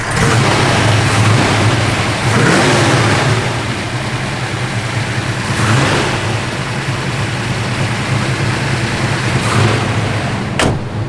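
A 1980 Chevrolet Camaro Z28 engine runs loudly and steadily, rising in a few revving surges over a constant rumble, close up.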